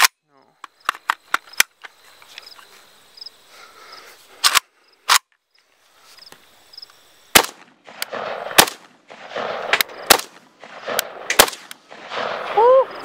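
Gunshots from a WASR-10 AK-pattern rifle ring out as several loud, sharp reports, spaced irregularly, some in quick pairs, with quiet handling noise and outdoor ambience between them.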